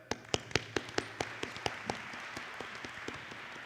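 A small crowd claps at a military change of command ceremony, sharp individual hand claps quick and close at first, then thinning into scattered faint claps that fade out.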